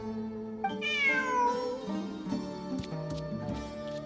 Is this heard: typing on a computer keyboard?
no